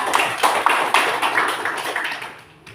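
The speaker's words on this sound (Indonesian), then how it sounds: "tepuk tangan dulu untuk kita" A group of second-grade children claps together in a classroom, a brief burst of quick, fairly soft claps that fades out toward the end.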